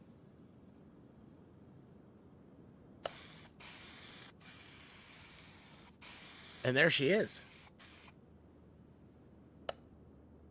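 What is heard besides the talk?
spray painting an El Camino model car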